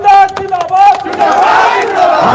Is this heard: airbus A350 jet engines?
no